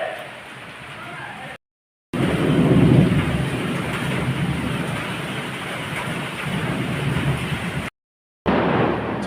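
Heavy monsoon-style thunderstorm outdoors, with dense roaring rain and deep rumbling thunder swelling loudly, broken by two brief gaps of silence.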